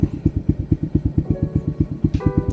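A Honda Grom clone motorcycle being ridden on a flat tire, its single-cylinder engine thumping in quick, even pulses, close and loud, with a higher whine rising near the end.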